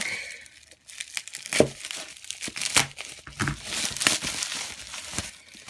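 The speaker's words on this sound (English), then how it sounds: "Let's just unwrap this again real quick." Plastic packaging wrapped around a Valk 3 puzzle cube box being pulled off, a close run of irregular crinkles, tearing rips and crackles with a brief pause near the start.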